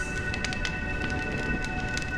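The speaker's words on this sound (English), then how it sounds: "When will this rain ever stop?" Steady rain falling in the video game Honkai Star Rail, a dense, even hiss with scattered droplet patters throughout, continuous and fairly close, with no talking over it.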